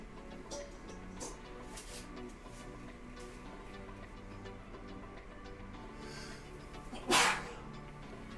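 A single sharp sneeze bursts out near the close of a stretch of quiet indoor room tone, loud and sudden against the calm background.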